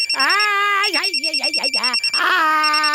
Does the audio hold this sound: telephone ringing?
yes